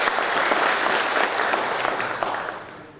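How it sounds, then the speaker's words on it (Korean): Short round of clapping from attendees at a village redevelopment project briefing, a dense even patter that gradually fades toward the end. "시간 관계상 박수만 한번 짧게 치고 넘어가도록 하겠습니다."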